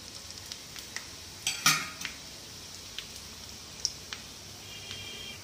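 A spatula flips a sweet chilli mixture in a frying pan, giving light metallic clinks and taps spread across a quiet background, with a brief louder scraping cluster near the middle.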